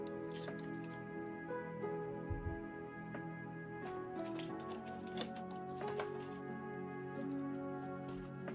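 Water dripping and splashing in repeated small drops, close by, with faint background sound continuing underneath.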